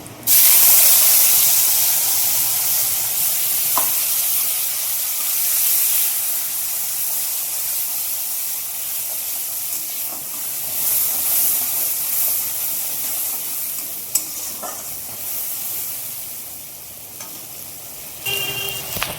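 Ground coconut and green chili paste hitting hot oil tempered with cumin, bay leaf and dried red chili, a loud burst of hissing sizzle that settles into steady frying with occasional stirring clinks, close.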